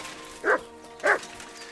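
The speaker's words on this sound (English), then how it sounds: "Normally when Mutt is barking, he either found some hidden treasure, game, or" A dog in Kingdom Come: Deliverance II barks twice, each a short, clear bark about half a second apart, over a quiet game ambience.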